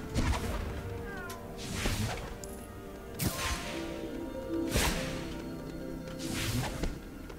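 A cat meowing in Lego Harry Potter, several drawn-out cries and yowls repeating every second or two over busy game sounds and impacts.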